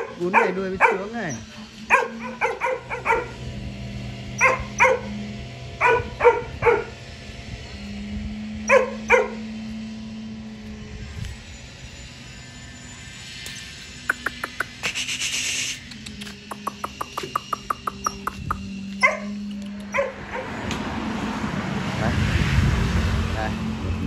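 Small grey and white puppies yapping and growling at one another in short bursts, with people talking over and between the yips throughout.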